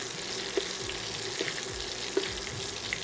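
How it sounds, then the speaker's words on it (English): Steak searing hard in a hot pan while butter, rosemary and thyme are spooned over it, a steady close sizzle with soft spoon clinks and occasional small pops, no talking. "all we want to do is baste this with all that butter and rosemary and thyme"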